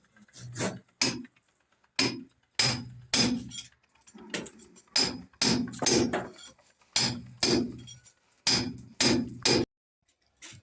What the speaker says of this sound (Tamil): அறுத்து பிடிச்ச பிறகு உடைக்க வேண்டியதான்.